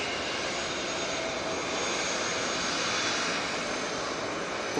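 A TUI airliner touching down at Manchester Airport produces a loud, continuous jet engine roar with a dense, even wash of noise and no break throughout.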